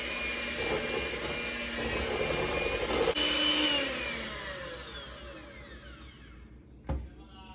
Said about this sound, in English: We want you to beat this for about 2 minutes.